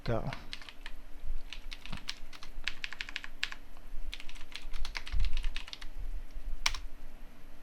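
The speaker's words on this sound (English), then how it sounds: "here I'm going to type some simple words" Typing on a computer keyboard while entering simple words into an Excel spreadsheet: close, crisp key clicks come in quick irregular bursts with short pauses between words.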